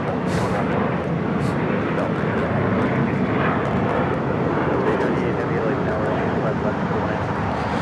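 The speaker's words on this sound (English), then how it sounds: "This is Singapore Airlines, the 777-300ER coming in from Tokyo Narita." A Singapore Airlines Boeing 777-300ER arriving at LAX from Tokyo Narita, a loud, continuous heavy jet roar with little variation, close and dominant throughout, with a voice talking underneath.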